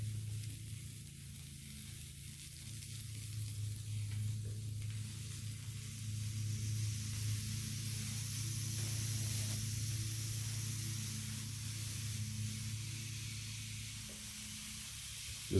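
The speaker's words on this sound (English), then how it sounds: "Now I'm going to take my salmon fillets and put those on the lower side of the grill." Seasoned salmon fillets sizzle on the lower side of a grill beside broccoli. A steady, loud hiss and crackle runs the whole time over a low hum, rising slightly midway, with no talking.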